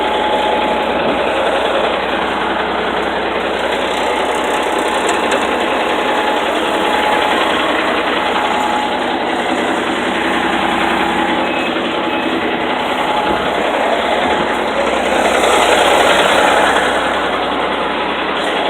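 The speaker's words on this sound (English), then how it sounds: "This is the Peterbilt with the Caterpillar diesel-powered engine." A 1994 Peterbilt 379 truck's Caterpillar diesel engine, with a million miles on it, idles with a steady, rough mechanical clatter and drone, close and loud, running continuously with no voices.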